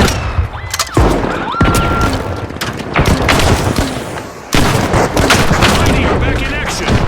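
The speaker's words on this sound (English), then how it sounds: "Frag grenade." A frag grenade explodes in the first-person shooter The Finals amid heavy gunfire: sharp booms and rattling bursts come in loud clusters, with a sudden blast near the middle and dense firing afterward, and a commentator speaks over the action.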